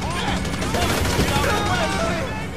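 Shotgun and machine gun fire in the video game Grand Theft Auto V, dense overlapping shots mixed with game effects and a talking voice throughout.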